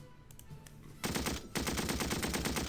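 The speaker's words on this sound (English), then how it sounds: "Keep up the fire with the Vickers." Vickers machine gun in the WWI strategy game Battle Academy, a brief lead-in of scattered clicks, then a loud rapid burst of automatic fire, a short pause and a second sustained burst.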